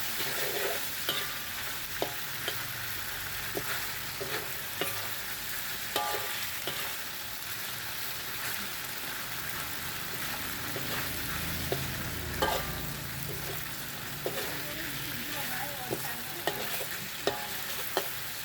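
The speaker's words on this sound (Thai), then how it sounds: "ผัดถั่วงอกกับผัดหอยลายนะครับ ทำคู่กันเลยนะครับ" Bean sprouts and clams being stir-fried together in a pan, a steady sizzle with continuous scraping and stirring throughout, frequent sharp clacks of the spatula against the pan, with no talking.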